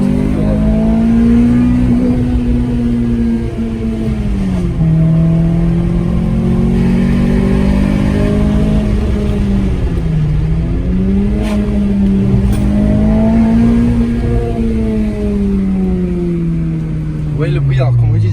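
A Renault Clio 3 RS engine drones and revs loudly and continuously, pitch rising and falling in waves, close by, with faint talk underneath.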